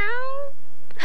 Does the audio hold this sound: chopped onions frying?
no